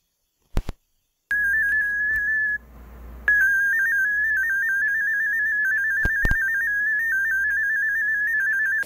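Steady multi-tone DominoEX HF digital radio transmission, a warbling stepped tone holding on alone with a short gap and a few brief clicks, moderately loud and continuous.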